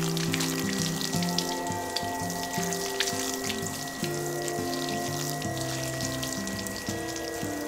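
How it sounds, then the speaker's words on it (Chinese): Water splashes and pours steadily over a K&N drop-in air intake filter from a Honda Civic FC as it is rinsed, a continuous close hiss with a faint tonal hum beneath. "比较好的方法是从干净的那一面冲水，这样会把另外一面的脏东西直接冲出去。"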